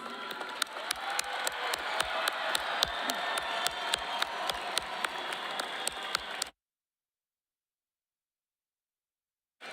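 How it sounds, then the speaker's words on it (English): Graduates at a 2024 high school commencement receive a steady round of applause from the crowd, with regular sharp claps standing out, lasting about six seconds before cutting to silence. "Let's give this amazing group of young men and women another huge round of applause."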